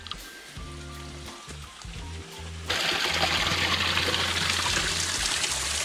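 Water trickles and splashes at a water point on a forest trail in Pedra Branca State Park, Brazil, starting as a faint dribble over a low hum and then turning into a louder, steady close-up flow that runs to the end.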